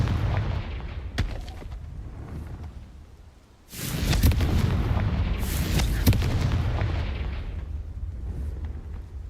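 A Confringo spell blast in Hogwarts Legacy erupts as a loud, booming explosion with a sharp onset, then rolls on in a sustained rumbling roar with crackling bursts to the end.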